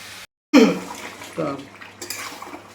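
Water is poured into a pot of chicken being cooked down with spices. It sounds like a short, close splash and gush that begins abruptly after a brief silence, with some kitchen clatter following.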